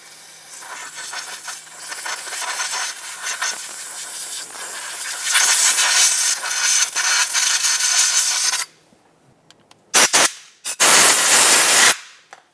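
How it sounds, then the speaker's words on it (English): Brake parts cleaner sprays and compressed air blows into the ABS sensor hole in the steering knuckle of a 2014-2021 Mazda 6, a long rising hiss followed by two short sharp bursts after a pause. "Blow it out with some brake parts cleaner and then compressed air if you have it."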